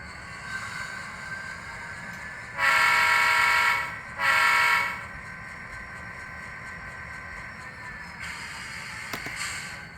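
A Broadway Limited Imports GP30 HO scale model locomotive idles with sound at its slowest speed step, a steady diesel rumble broken by two loud horn blasts and a later burst of hiss, with no voices.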